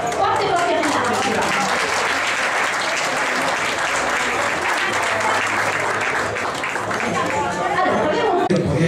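A crowd at an Italian mandarin orange festival applauds loudly and continuously, dense clapping blended with lively chatter and voices throughout, heard close and full for nine seconds.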